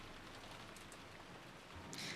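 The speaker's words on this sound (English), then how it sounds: "there is nothing else to do but pass the time listening to the sound of the rain" Steady rain from Umineko When They Cry hisses softly and evenly throughout, a faint continuous wash with no voices and a slight swell near the end.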